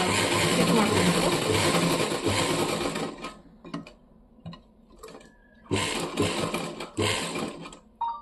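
A sewing machine runs steadily while stitching the side seam of a trouser, a dense continuous whir that stops after a few seconds, then resumes in two more short bursts with quiet handling noises in between.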